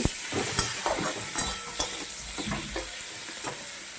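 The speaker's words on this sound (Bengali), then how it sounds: "করলা ভেজে নেব, করলাগুলা দিয়ে দিচ্ছি, নুন হলুদ দিয়ে ভেজে নেব।" Bitter gourd cut into rings fries in hot oil with salt and turmeric, a steady loud sizzle broken by regular scraping stirs of the spatula in the pan.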